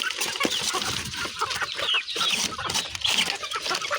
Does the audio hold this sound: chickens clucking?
yes